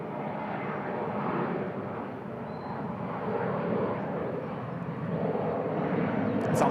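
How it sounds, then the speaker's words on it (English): An Aeroflot airliner rolls down the runway for takeoff at Bangkok, its jet engines producing a steady, broad roar heard from a distance that swells gradually toward the end. "It's a long takeoff roll."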